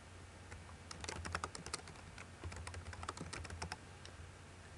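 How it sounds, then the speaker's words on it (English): Keys clatter on a computer keyboard in quick, irregular bursts of close clicking over a faint steady hum, with brief gaps between runs of keystrokes. "you could type on there"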